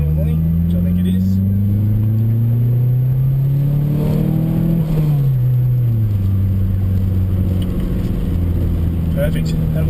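A car fitted with a methanol injection kit accelerates hard at full boost, the loud engine note climbing steadily, easing briefly, then pulling again, heard from inside the car throughout.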